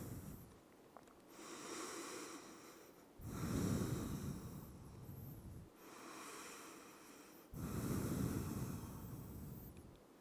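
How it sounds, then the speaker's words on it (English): Deep, slow breaths taken in a yoga child's pose, forehead on the floor: four long breathy inhale and exhale swells alternating steadily, close and soft with an airy, slightly snorting texture, no talking. "Take 5 deep breaths."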